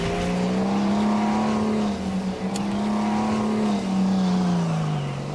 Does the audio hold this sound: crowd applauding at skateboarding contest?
no